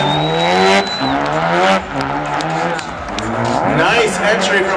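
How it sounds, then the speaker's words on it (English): A Mazda RX7 drift car runs at a drift event in Long Beach, its engine roaring loud and close with a sustained tire squeal, while an announcer talks over it. "Mazda RX7."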